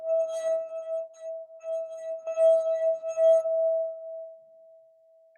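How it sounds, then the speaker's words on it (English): A crystal wine glass holding water is rubbed around its rim, ringing with a sustained pure singing tone that swells and fades in uneven pulses before holding steady, clear and close with no talking. "we're rubbing the glass"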